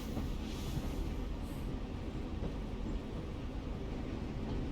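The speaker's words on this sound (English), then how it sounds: "Why the train? You always pick the train." A steady low rumble of a moving train in The Walking Dead video game, a constant rolling drone with faint rattling throughout and no talking.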